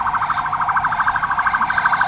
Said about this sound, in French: laisse passer l'ambulance.